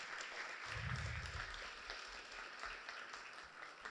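Audience applause at a morning technology and innovation event, a fairly faint, steady spread of clapping from a crowd, with a brief low rumble early on.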